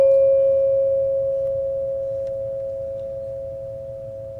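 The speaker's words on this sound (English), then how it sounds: "listen to the sound of the tone" A tone bar struck once rings out as a single pure, sustained tone that slowly fades over several seconds, alone in a quiet room with a faint low background hum.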